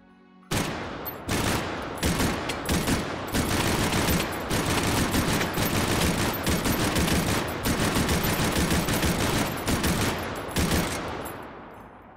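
A drum-magazine gun fires in the VR shooter Hot Dogs, Horseshoes & Hand Grenades, loud sustained bursts of rapid shots with brief gaps running nearly continuously for about eleven seconds, with no talking.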